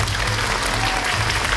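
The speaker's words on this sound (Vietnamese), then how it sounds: "Các bạn sẽ ủng hộ theo tiếng vỗ tay nhé." Audience clapping fills a singing competition stage for child performers, steady dense applause throughout with no talk over it.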